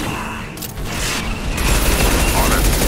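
Impact Shot power firing in the Mass Effect 2 video game: a loud mechanical burst and boom, followed by a sustained rumbling roar of combat noise, close and dense.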